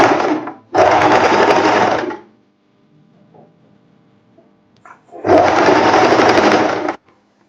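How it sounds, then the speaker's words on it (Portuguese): A sewing machine runs in two bursts of rapid, even stitching, each one to two seconds long, with a quiet pause between them while a seam is sewn on a short lace dress. "Aqui eu já vou passar essa costura que nós falamos"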